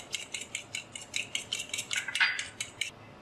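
Cheese and egg mixture being stirred in a bowl for cheese egg toast, a utensil clinking against the bowl in a quick, steady rhythm of repeated scrapes and taps, close and fairly clear with no talking.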